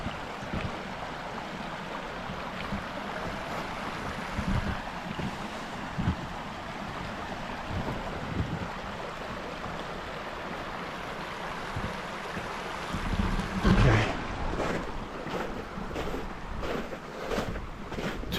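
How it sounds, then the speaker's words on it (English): A stream flows steadily beside an outdoor rail trail, producing a soft, continuous wash of water noise at low volume, with no talking. "I'm just going to stop a minute so you can hear this peaceful water flowing here in a minute."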